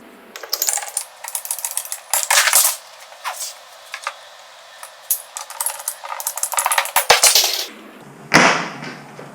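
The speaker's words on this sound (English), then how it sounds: "now we're going to cut our 1-inch PVC pipe" Plastic cutting sounds as 1-inch PVC pipe is sawn or trimmed: a series of sharp, crackly bursts and snaps in uneven clusters, fairly close and loud, with quiet gaps between them and no talking.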